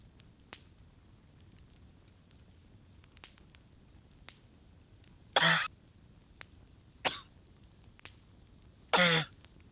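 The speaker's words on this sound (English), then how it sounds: "Chloe's gonna keep coughing up the hairballs." Three loud, wet gagging heaves of a cat hacking up a hairball, separated by quiet pauses with faint clicks between them.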